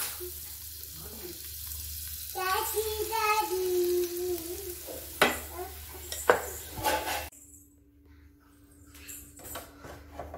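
Chabab, a traditional UAE pancake, cooks in butter on a pan with a steady frying sizzle, with a few utensil clinks and scrapes partway through and the sizzle fading quieter near the end.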